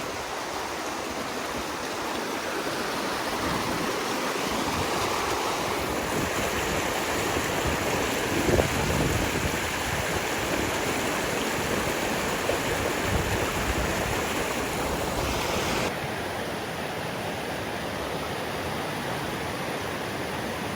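Creek water rushing through a canyon in the Angeles Forest after heavy rains, a constant full-bodied roar of flowing water, close and steady throughout without voices.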